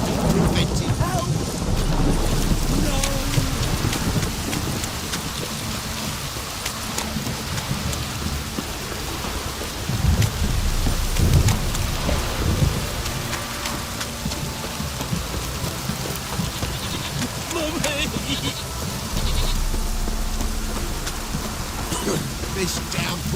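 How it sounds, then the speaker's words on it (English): A heavy rain downpour drums steadily in The Witcher 3, with rolling thunder rumbling through the storm for over twenty seconds and occasional louder surges. "This downpour's a bastard, it is. It's plowing pouring again."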